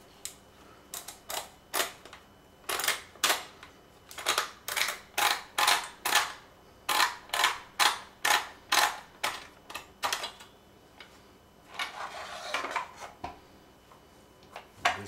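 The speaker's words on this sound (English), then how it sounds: "First I unscrew this part here." A Franchi I-12 inertia-driven shotgun being taken apart gives off a quick run of small, crisp metallic clicks and ticks at close range as a part is unscrewed, fairly quiet and irregular.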